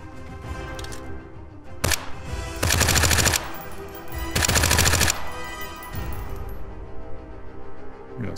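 Gunfire in the survival shooter The Front: two loud, sustained bursts of automatic fire, each about a second long, with a single sharp shot before them. Quieter ambient game sound fills the gaps.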